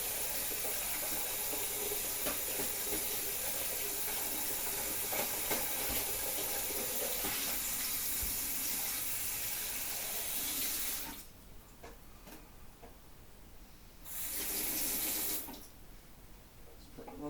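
Kitchen tap running steadily into a sink while lentils are rinsed, a dense close hiss of water that stops briefly twice near the end before starting again.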